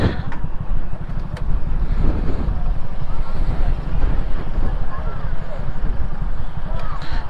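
Strong coastal wind buffets the microphone on a seaside motorcycle ride on a Splendor PRO, a steady loud low roar that covers the whole clip.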